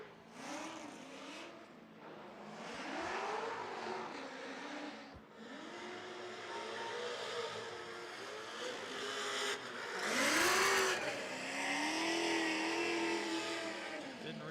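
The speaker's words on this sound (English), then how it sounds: "That car sounds incredible from up here, shaking the whole booth." A race car lapping a track during a ProAm series qualifying session, its engine rising and falling through repeated revs and gear changes at a distance, under a commentator's talk.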